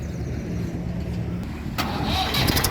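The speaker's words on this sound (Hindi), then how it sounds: "ये भी ट्रैक्टर स्टार्ट कर दिया और अब जो है इसको चलाएंगे।" A tractor engine, on a tractor fitted with a front-mounted loader, cranks over and catches, its rough mechanical rumble rising to a louder idle after a low mechanical hum.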